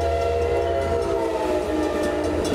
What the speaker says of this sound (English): About 50 trains pass through this intersection every day.